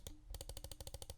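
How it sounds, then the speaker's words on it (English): A Lethal Gaming Gear LA-1 gaming mouse gives a fast, even string of about a dozen crisp right and left button clicks, quiet but close, with one brief pause after the first click. "Now here's a sound test. Right and left click."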